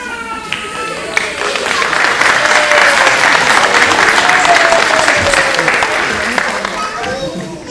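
A school-hall audience applauds at a children's concert, sustained loud clapping from many hands swelling after a brief voice and fading slightly at the end.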